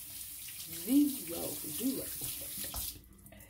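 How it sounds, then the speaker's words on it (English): Tap water running into a sink during handwashing, a steady splashing flow under a voice, fading out near the end. "So I'm going to wash my hands."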